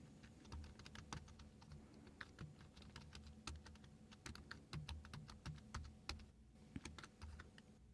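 Steady typing on a computer keyboard while entering code, with dense irregular key clicks and occasional louder strikes, close and alone without any talk.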